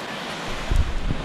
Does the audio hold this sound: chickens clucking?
no